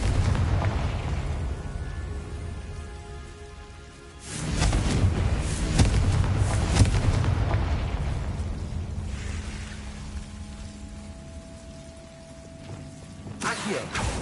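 A Confringo fire spell explodes in the Hogwarts Legacy video game: a sudden loud booming blast after a quieter stretch, rumbling and crackling for several seconds before fading, with another burst near the end.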